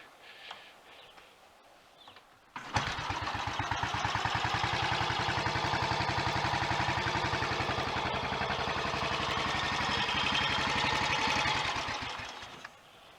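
A Royal Enfield 500 motorcycle single-cylinder engine, tuned with altered valve timing, fires up and runs with a loud, steady rapid thump for about ten seconds, then is switched off and dies away, with no talking.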